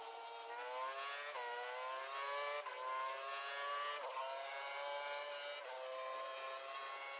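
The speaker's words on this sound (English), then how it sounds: "the car behind is running on full revs" A Formula One car in the F1 2012 game screams at full revs on the Japanese Grand Prix circuit, a loud, continuous high-pitched engine whine with brief pitch dips at gear changes, heard alone without voices.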